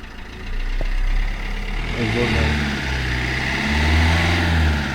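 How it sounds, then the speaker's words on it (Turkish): A Fiat Egea 1.6 Multijet diesel automatic is held at about 2000 rpm. The engine drones steadily and close, with its pitch rising briefly from idle and then holding fairly even, and voices are faintly present. "2000 devir versene gaz."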